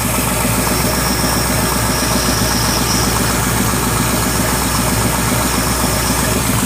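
A Land Rover engine idles steadily up close, a loud continuous rumble with mechanical clatter and vibration that holds evenly throughout, with no speech.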